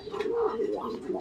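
A pair of Shartin pigeons nesting on eggs give a close, steady cooing call that rises and falls over a little more than a second.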